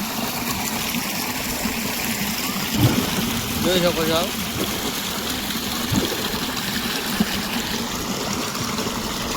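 A 4-inch pipe fed by a pump draws water from a 250-foot farm borewell and releases it in a steady gushing flow, with a brief voice speaking partway through.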